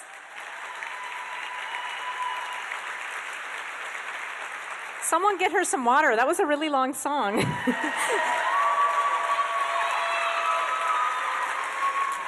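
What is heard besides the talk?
audience applause after a song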